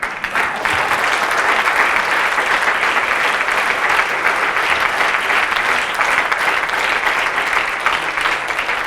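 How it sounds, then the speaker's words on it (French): Loud, sustained applause from an audience at a conference on gender equality between women and men, a dense wash of clapping that holds steady for the whole stretch with no voices on top. "Et les applaudir encore plus fort parce qu'ils ont osé être là."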